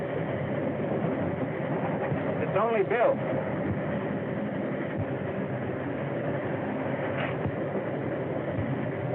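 A running train gives off a continuous low rumble and mechanical roar throughout. A voice speaks briefly over the noise.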